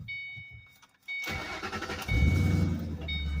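A 2008 Ford Mustang Bullitt engine with newly installed timing chains cranks and catches after a quiet moment, then settles into a steady, loud idle with a low rumble close by.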